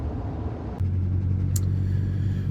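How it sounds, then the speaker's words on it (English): A Volkswagen Passat wagon driving, its engine a steady low rumble with a brief shift in tone early on, then a constant in-cabin drone that holds to the end. "I am driving my Passat wagon home"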